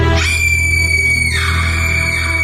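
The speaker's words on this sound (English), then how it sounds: "as the girl starts to scream" A girl screams loudly and continuously, a shrill sustained cry that drops slightly in pitch partway through and holds to the end.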